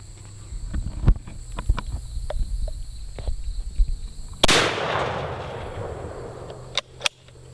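An Umarex ARX Speedbelt .50 caliber rifle loaded with 100 grains of powder fires one loud, sharp shot through plastic. The blast leaves a long ringing decay, preceded by soft shuffling and knocks and followed by a couple of clicks.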